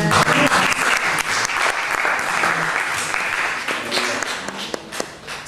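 A church congregation applauds, with dense, loud, continuous clapping from many hands close by that fades slightly toward the end.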